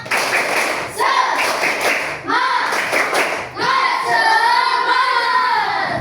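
Children in a classroom clapping a spirit-clap rhythm in quick bursts of sharp hand claps, with young voices chanting between and over the clapping.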